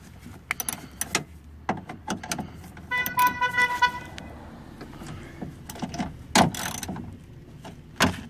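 Bolts on the window motor inside the driver door of a 1996 Toyota Camry being tightened with a hand tool: a close series of sharp metallic clicks and a short burst of rapid ratcheting, with scattered knocks from handling.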